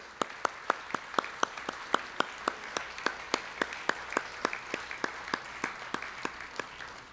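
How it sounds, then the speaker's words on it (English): Applause at an applied art and design award gala: a sparse, slow run of single sharp hand claps spaced evenly for about seven seconds, near and distinct over a quiet room hum, more like one or a few people clapping than a full crowd. "Can we please give them a big round of applause?"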